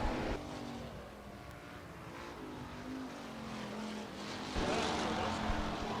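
Hobby stock race cars circle a dirt speedway, their engines a faint, distant droning hum that swells briefly near the end, with a loudspeaker-like background wash.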